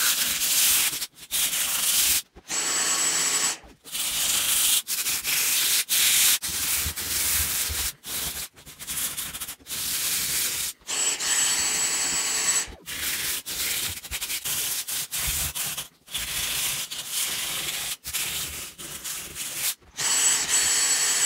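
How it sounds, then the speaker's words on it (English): Fine sandpaper rubbed over a model railway layout piece, loud close rasping strokes in a steady back-and-forth rhythm with short pauses between passes, no talking. "I'm just now going to finish sandpapering"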